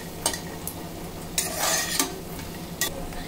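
Peas being stirred and fried in a pan, giving a steady sizzle broken by several sharp scrapes and clinks of a utensil against the metal, heard close up with no one talking.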